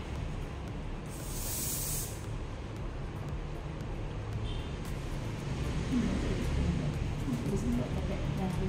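Hairspray hisses from an aerosol can onto curly hair for about a second, a loud bright spray burst over steady background noise; a quieter hiss follows later as the hair is styled.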